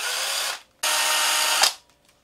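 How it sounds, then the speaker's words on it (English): A power drill bores a hole for the tail hook in a wooden crankbait lure, in two loud steady whirring bursts separated by a short pause, each ending abruptly. "I'm also going to drill the hole for the tail"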